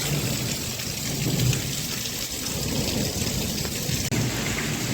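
Heavy rain pours steadily after a hailstorm in a village setting, a dense continuous roar of drops on surfaces with a low rumble underneath, loud and close throughout with no voices.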